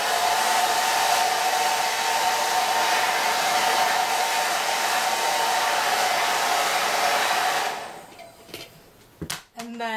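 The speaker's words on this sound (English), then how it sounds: "So I'm just going to quickly blow dry it." A hair dryer set on high blows onto a glued, styled wig in a loud, steady rush for about eight seconds, then cuts off, leaving a few handling clicks and knocks.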